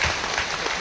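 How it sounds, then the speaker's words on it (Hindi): Brief burst of audience applause at an Indian press meet, steady and moderately loud clapping from a crowd filling the whole moment with no voices over it. "तो थोड़ा सा ताली मार दीजिए।"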